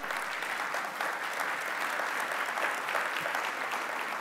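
Sustained audience applause at a public event with the governor of Nuevo León, in honor of the steelmaker Ternium, an even, continuous roar of many hands clapping.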